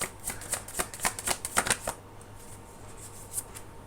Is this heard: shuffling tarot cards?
yes